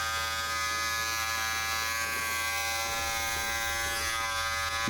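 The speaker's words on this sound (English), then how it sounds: "So turn the clipper on, plant it at the back of your head" An Andis electric hair clipper fitted with a number 3 guard cuts hair at the back of the head, giving a steady, close, loud buzzing drone that runs unbroken throughout.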